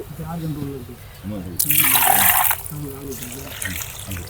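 Water is poured into a pot while a fish curry is cooked village style, a brief gushing splash lasting about a second, heard under ongoing conversation.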